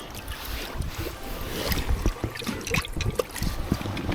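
Water being changed in a fish container aboard a small fishing boat during a windy evening rockfish trip off Ulsan, with sloshing, trickling and splashing water under gusty wind noise, close by and without talk.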